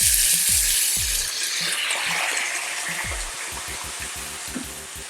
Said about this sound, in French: Là, on va déglacer avec le vin blanc.